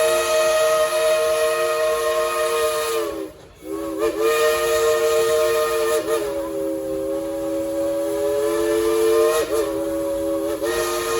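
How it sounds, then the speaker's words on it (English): Loud, sustained train steam whistle with a rich chord-like tone and hiss, blowing long with a brief break and a slight pitch wobble, in Tennessee. "I'll tell the engineer, blow the whistle"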